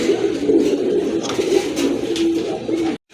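Pigeons coo loudly and close by, a continuous layered warble from several birds that breaks off abruptly just before the end.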